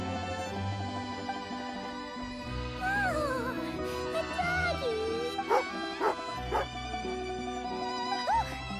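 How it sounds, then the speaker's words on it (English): A dog in the video game Genshin Impact gives several sharp yips and whimpering barks over a bed of melodic game music. The barks come in short bursts in the second half. "Angry doggy."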